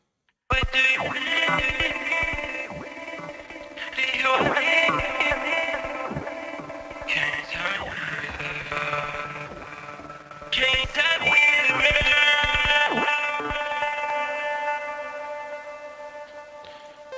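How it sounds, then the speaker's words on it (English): A processed vocal ad-lib layered with glitcher plugin effects, riddled with stuttering digital glitches, abrupt cuts and dropouts, with buzzy distorted texture running throughout at steady loudness. "I kind of just added a bunch of the different glitches from this glitcher on top of it."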